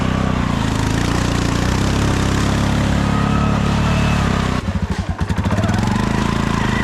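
Polaris 6x6 engine revving hard while stuck in thick mud, a loud continuous roar close by, with the throttle sputtering and surging briefly near the end.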